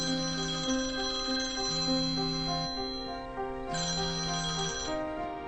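A phone ringtone plays on and on unanswered, a repeating melodic electronic pattern at steady moderate volume, with no one speaking over it.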